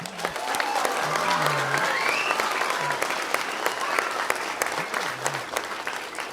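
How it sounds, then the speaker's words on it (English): A crowd applauds the players after a Tipperary intermediate hurling final between Kilsheelan Kilcash and Moyne Templetuohy, with steady, loud clapping throughout and voices faintly calling out beneath it. "So huge round of applause for the players."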